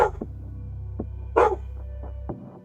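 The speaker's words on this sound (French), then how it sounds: "c'était un autre chien sur l'écran, c'est pas un vrai chien" A dog barks in the video game Life is Strange: Double Exposure, a few short, sharp barks spaced out over a steady low droning background hum, with a louder burst in the middle.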